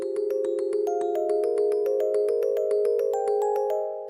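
Crank music box plinking a chord change in quick, even sixteenth notes, bright metallic tines ringing together into sustained tones, close and clear with no talk.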